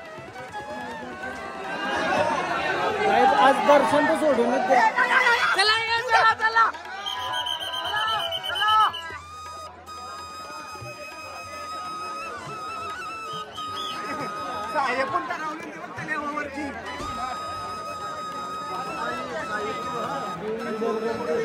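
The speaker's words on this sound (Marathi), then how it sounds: "डेंजर गर्दी. खतरनाक गर्दी." Thick crowd of devotees at the Ekvira palkhi procession, busy babble and shouts loud at first, then easing into a steadier murmur with a faint tonal drone, a nearby voice speaking over it.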